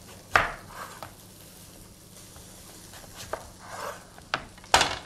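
Knife cutting an onion into quarters on a board, a few sharp chops spaced out over several seconds, close and fairly quiet, with no talking.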